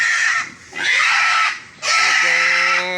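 Fattener pigs squeal loudly as they are loaded on a farm, with three piercing bursts in quick succession and the last trailing into a drawn-out, tonal cry.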